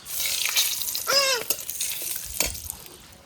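Two bay leaves sizzle and crackle in hot oil for an egg curry, a steady close frying hiss with brief stirring and clinking sounds from the pan.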